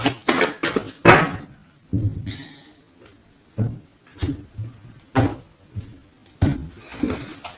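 A tarot deck is cut into three piles with a series of sharp, close slaps and clacks of cards on a surface, in irregular clusters separated by short pauses.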